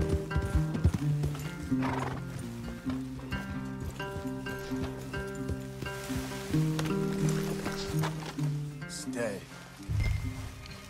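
Horses in the Red Dead Redemption 2 game neigh and whinny while their hooves clip-clop steadily at close range, mixed with game music and a voice talking over the scene.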